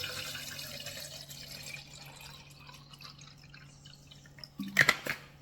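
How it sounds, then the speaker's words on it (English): Cold water running into a gym drink bottle, a soft steady pour under faint room hum that ends in a brief burst of louder splashing and gurgling near the close, with no one talking. "So I'll get some cold water."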